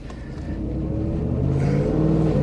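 A 2024 Ford F-150 4x4 pickup with a 5.0L V8, driven hard so its engine roar swells steadily and holds loud throughout, with no talking.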